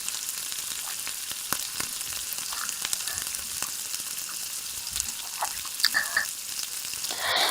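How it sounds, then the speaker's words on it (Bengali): Chicken with spices cooking in a pan with a little water for dhaniya chicken, giving a steady close sizzling, bubbling hiss with a few soft stirring clinks and no talk. "মাংসটা ফুটতে শুরু করে দিয়েছে"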